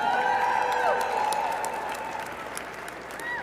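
Audience applause at the Detroit Auto Show charity preview at Huntington Place, a steady wash of distant clapping in a large hall with sustained tonal hum and ringing sounds layered over it.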